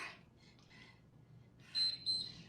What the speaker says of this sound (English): and that timer will be any second now.